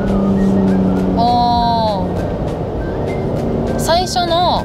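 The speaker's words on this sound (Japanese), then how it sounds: "最初の 追い越し車線行くぞっていうところのエンジン音がね、結構うなってる感があるんですけど" A Toyota Yaris Cross 1.5L petrol engine revs and whines as it accelerates in power mode onto a passing lane, steady and loud inside the cabin, with a voice speaking over it.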